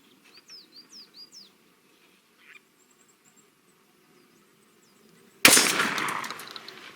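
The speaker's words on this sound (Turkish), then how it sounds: "Şu anda tam merkeze nişan alıp bir tane atış yapıyoruz." A D-DOXCARMS DCX-26 air rifle fires a single sharp, loud shot after a quiet stretch in which distant geese or ducks honk, and the report decays briefly.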